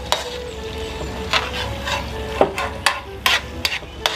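Onions frying in a pan for garlic buttered shrimp with canton noodles: a steady, close sizzle broken by sharp, irregular clacks of stirring and scraping, with no talking.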